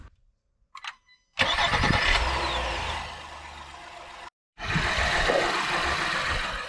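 A 2022 Honda Ridgeline's engine is cranked and catches after a couple of quiet clicks, then settles into a steady close idle, cuts off briefly and restarts, running on evenly.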